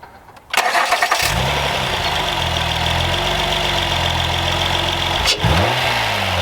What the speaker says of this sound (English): let's start her up real quick and see what she sounds like with the stock intake